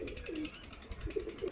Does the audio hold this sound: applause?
no